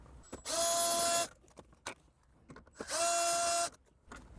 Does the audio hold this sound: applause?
no